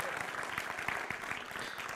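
A church audience claps for Rachel, a brief, fairly faint burst of dense applause with rapid, overlapping hand claps from a crowd.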